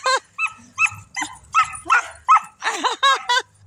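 A dog whimpers and cries in a rapid series of about a dozen high, yelping whines, loud and close, with no talk over them.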